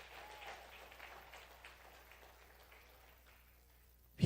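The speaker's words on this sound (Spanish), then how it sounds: "Un aplauso de ofrendas" A church congregation claps as an offering of praise, a soft, distant patter of applause that slowly fades over a few seconds before a brief louder knock at the very end.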